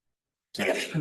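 A single sharp human sneeze bursts out after a silent pause in a board meeting room, close and fairly loud, with a brief trailing breath at the end.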